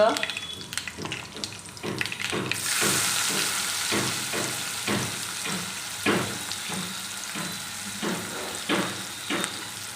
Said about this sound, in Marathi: टाकून द्यायचं आहे हिंग